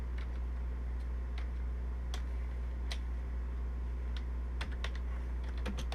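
Computer keyboard keys tapped in short irregular bursts, close and fairly quiet over a steady low hum, with no voices.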